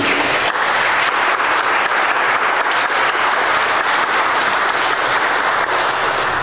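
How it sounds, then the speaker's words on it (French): A church congregation at Mass claps steadily and fairly loudly, an even wash of applause with no voices over it. "Je pense qu'on pourrait les applaudir"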